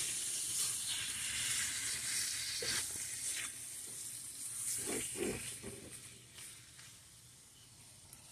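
Bele fish sautéing with spices in a pan gives a steady, fairly quiet sizzle and hiss, broken by a few soft clinks and scrapes as the pieces are gently stirred.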